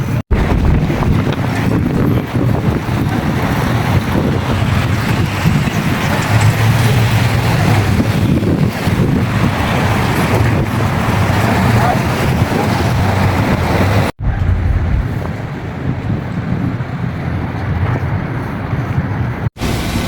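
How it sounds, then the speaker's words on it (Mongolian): Strong wind roars steadily across the microphone aboard a boat in New York harbor, a loud, constant rumbling buffet with waves and engine noise blended underneath, briefly cut off near the end. "Салхитай."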